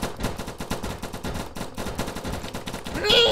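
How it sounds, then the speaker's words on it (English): Rapid machine-gun fire rattles continuously in the defender-mode shooter They Can't Stop All Of Us, a steady stream of close, punchy shots in fast rhythm, with a brief electronic tone at the end. "Why are you shooting here?"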